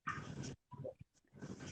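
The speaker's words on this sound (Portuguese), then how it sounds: "Peraí que tem um cachorro aí" A dog makes a few short, muffled barking and whimpering sounds in the background, clustered in bursts with brief pauses, faint and slightly distant.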